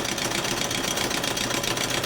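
A vertical steam engine, a Frankenstein hybrid of Ernst Plank and Excelsior Falk parts, runs steadily with a continuous mechanical chuffing and clatter, close and even throughout.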